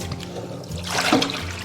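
Small peeled taro pieces rinsed under running water, a brief, close trickle and splash of water that swells slightly midway.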